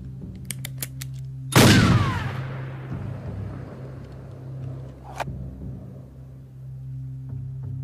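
A single loud gunshot from a handgun in a dubbed action film cracks out suddenly, then a long reverberant rumble decays over several seconds, followed later by a brief sharp metallic click, over a low steady background hum.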